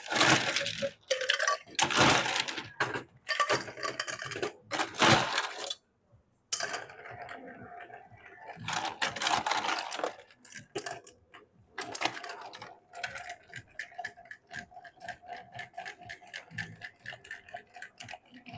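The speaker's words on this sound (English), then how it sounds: "Let's gonna stir it." Ice clinks and rattles quickly against a glass as a bartender stirs a New Age Martini made with Mastica and green tea, a close, busy stream of small chinks that runs almost continuously with brief pauses.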